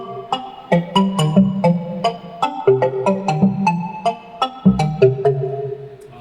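Percussive synthesizer keyboard patch playing a busy pattern of short plucked notes with sharp bright attacks over a low thumping pulse, notes quickly decaying, played alone without talk.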